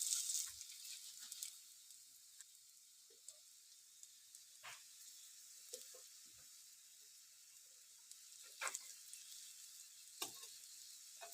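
Fish roe fritters dropped into hot oil, a soft continuous high sizzle with scattered quiet pops and a few brief clatters as pieces are added, faint and close with no voices.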